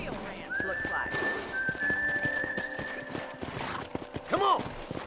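Horse hooves clip-clop at a steady walk while riding in Red Dead Redemption, with a whinny and a long whistled tone over it and spoken voices throughout, close and moderately loud.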